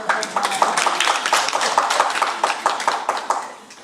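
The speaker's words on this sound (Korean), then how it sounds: "우리 박수 한번 쳐줄까요?" A church congregation gives a short burst of dense applause during a sermon, many hands clapping steadily at close range before it fades out.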